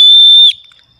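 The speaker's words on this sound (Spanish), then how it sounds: "un utensilio para comer, un cubierto que también tiene un silbato," A shrill, piercing whistle built into a survival-kit eating utensil blows one loud, steady high blast for about half a second, then cuts off and leaves a faint fading echo.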